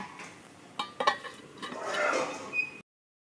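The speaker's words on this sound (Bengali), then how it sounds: "এবার সেদ্ধ হওয়ার জন্য আমি একটি পাত্র ঢাকিয়ে দেব।" A lid set onto a pot of meat and apple curry: several light metallic clinks and a brief scrape of the cover settling, then the sound stops abruptly.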